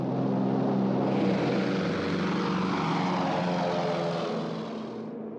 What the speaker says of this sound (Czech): Zvuk letounů nad hlavami v nich vyvolával příšerné vzpomínky.